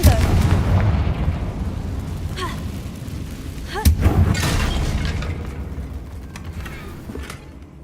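Confringo spell cast in Hogwarts Legacy, a booming explosive burst with a sharp crack around the middle, set against continuous game rumble and effects.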